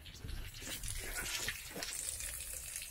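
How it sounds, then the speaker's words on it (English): Steady splashing and trickling of water draining out from under an Adria Twin campervan while it is winterised, fairly close and continuous, with no voices. "might still see the water draining out"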